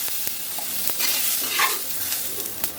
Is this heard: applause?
no